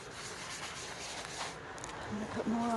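Lens cleaner being rubbed hard on a heavily oxidized headlight, a steady close scratchy rubbing that runs continuously, with a voice briefly heard near the end.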